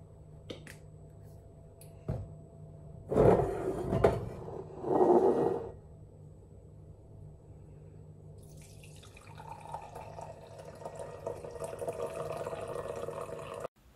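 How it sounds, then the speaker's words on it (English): Coffee is poured into a mug after a few small clicks and knocks, the liquid trickling in a soft steady stream up close with no voices. "I'm gonna put a little bit of a ASMR of me pouring his coffee now"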